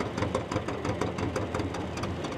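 An antique tractor engine idles steadily after a tractor pull at a Syttende Mai event in Westby, its loud rumble pulsing in an even rhythm with no talk over it.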